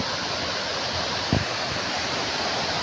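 A waterfall in Kandhamal, Odisha, roars in a dense, steady rush of falling water, loud and close, with a faint knock partway through and no speech.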